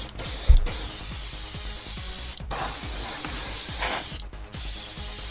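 A cheap airbrush sprays at full blast, a loud continuous close hiss broken by a few short pauses where the airflow stops and restarts.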